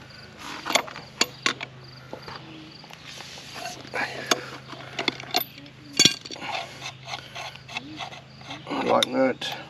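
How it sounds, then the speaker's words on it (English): A lock nut is worked off a wheel on a MechMaxx B150 during assembly, giving scattered close metallic clicks, rasps and clinks in irregular bursts over a low steady hum. "You got to take their lock nut off right here first"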